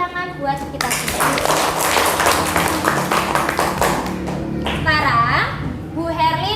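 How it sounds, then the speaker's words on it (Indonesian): A class of children claps together in an Indonesian school lesson, a dense broadband patter that runs for most of the clip, with young voices and chatter rising over the end as it fades. "Tepuk tangan buat kita semua."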